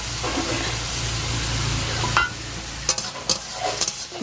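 Soaked bitter gourd tipped into a hot pan of lau shukto and stirred, a steady oily sizzle running throughout with a few sharp spatula clinks near the end.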